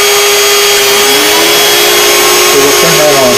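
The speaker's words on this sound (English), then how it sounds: "I want my vacuum on." Shop vacuum switched on at a CNC machine, a loud steady whine and roar that holds throughout, with faint shifting tones underneath.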